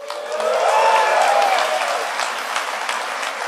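A conference audience at DEFCON 20, a hacker convention, breaks into loud sustained applause and cheering that fills the hall, swelling over the first second and holding steady to the end.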